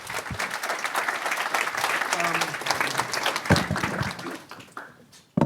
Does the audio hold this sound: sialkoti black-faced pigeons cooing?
no